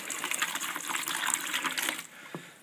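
Methylated spirits poured into a bucket with white vinegar, a steady splashing gush of liquid close by that runs for about two seconds and then stops, leaving a faint drip.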